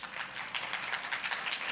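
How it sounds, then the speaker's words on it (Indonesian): A church congregation claps during a Christmas service, a quiet, steady patter of many hands sustained throughout without any talk. "boleh mana tepuk tangannya Dempo?"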